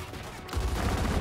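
Gunfire in the Gears 5 video game, a sudden dense burst of rapid shots that grows louder halfway through and continues as a heavy, continuous barrage.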